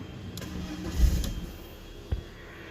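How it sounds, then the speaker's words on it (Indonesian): A BMW 318i E46 started with the key: a brief starter crank building into a catch around the middle, then a quieter settling idle with a small bump near the end, heard from inside the car. "kita injek rem, dan kita putar kuncinya untuk menyalakan si mobil ini."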